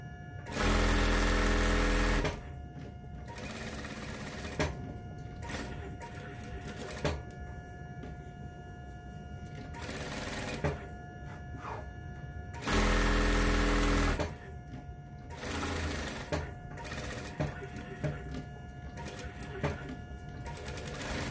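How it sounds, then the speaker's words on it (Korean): A sewing machine stitches a 1 cm seam around the edge of a fabric dart bag. It runs in two loud bursts, at the start and again midway, with quieter workshop sounds and some faint talk between them. "조금 전에 설명해 드린 것처럼 박음질 하도록 할게요."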